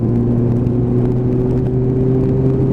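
Nissan GTR engine held around 3,000 rpm, a loud, steady low hum with a strong droning tone and no clear rise in revs.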